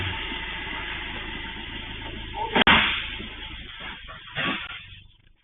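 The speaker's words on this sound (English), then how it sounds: "it keeps rolling, crashes into the other Citroen, and then rolls into the back of the Packard" A runaway car rolling into a Citroen and then the back of a Packard, captured on a garage camera: a low rumble, one sudden loud crash, then a second duller impact before fading to quiet.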